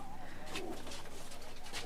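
Racing pigeons that have just won competitions coo softly in a loft, with faint low calls and a steady rhythmic background pulse throughout.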